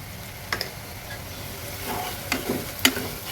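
Onions sizzle faintly in a pan with turmeric and salt, a low steady frying hiss broken by a few soft stirring scrapes and clicks, with no talking.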